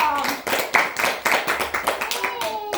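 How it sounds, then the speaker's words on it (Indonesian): A classroom of children claps together in a brisk, uneven burst of hand claps close by, with voices mixed in. "Tepuk tangan"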